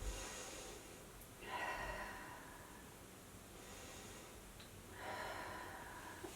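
Two slow, deep breaths during a mother-and-baby yoga session, each a soft, airy inhale-exhale swell spaced a few seconds apart, close and quiet against a faint room hiss.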